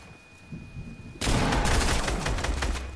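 After a quiet moment, a sudden burst of rapid gunfire erupts and continues as sustained, crackling automatic shots in the video game Fortnite.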